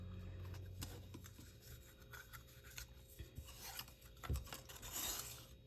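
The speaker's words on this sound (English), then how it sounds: "go ahead and fold them directly over and burnish that fold" Scored paper folded over and burnished for handmade 3D Christmas ornaments, giving soft, faint rasping rub strokes repeated several times, close and alone with no talk.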